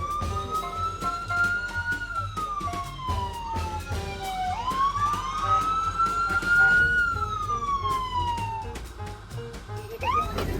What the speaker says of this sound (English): Press the siren, more siren